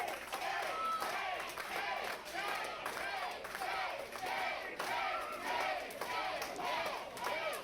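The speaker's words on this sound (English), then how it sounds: "The crowd chants," A St. Louis wrestling crowd chants a single name over and over in a loud rhythmic chorus, each syllable repeated at a steady beat with clapping and shouts mixed in.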